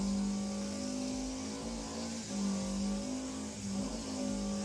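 A rally car engine revs high and holds near top RPM, a loud, sustained droning tone with a crackling edge that wavers slightly without letting up.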